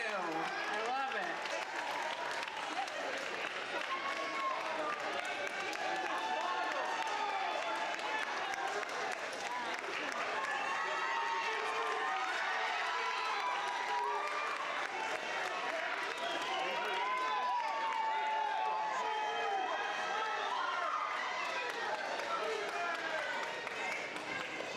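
Audience at the Horizon Science Academy Toledo 2025 graduation ceremony claps and cheers in a dense, steady wave of applause that fills the hall for the full stretch, with scattered whoops and voices mixed through the crowd noise.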